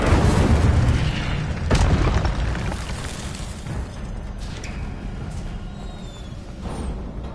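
Incendio fire spell cast in the video game Hogwarts Legacy: a loud, booming burst of flame at the start, then a second blast near two seconds, trailing off into a rumbling, crackling roar with faint higher magical glints.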